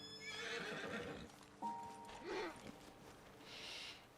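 Horses in the Red Dead Redemption 2 video game snort and neigh, a sharp whinny and hoof clip-clops heard close amid outdoor ambience.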